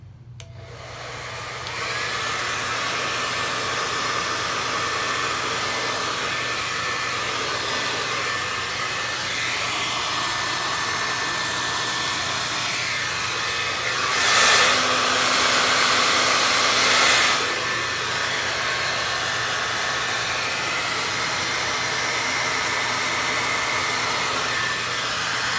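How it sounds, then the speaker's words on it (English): A hair dryer blows steadily for a long stretch, a constant whooshing roar with a brief louder surge midway, no voices. "not go completely crazy with a hairdryer, so forgive the noise"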